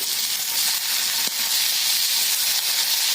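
Vegetables and potato sautéing in a kadhai for pulao, a loud continuous sizzle and hiss close up, with a brief stirring clink and no talk.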